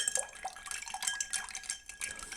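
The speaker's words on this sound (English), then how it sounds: "And then, so I then just give it a stir here." Ice swirling in a mixing glass as a Bijoux cocktail is stirred, a continuous close rattle of light clinks and tinkles, fairly quiet.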